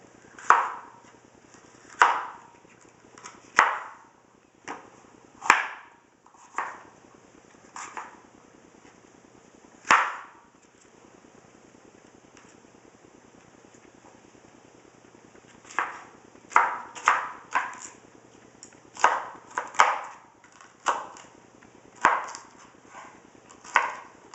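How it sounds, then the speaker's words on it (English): A knife chops a bell pepper on a cutting board in sharp, separate knocks, sparse at first, then a quicker cluster of cuts, close and clear with no talking. "And you cut your veggies. So, well, your pepper, better said."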